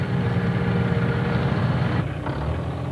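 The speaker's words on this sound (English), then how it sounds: "he heard a powerful engine coming up the road" A powerful tractor engine fitted with a bulldozer blade drives up a rainy road, a steady low rumble that holds loud and continuous for about two seconds, then eases slightly as it nears.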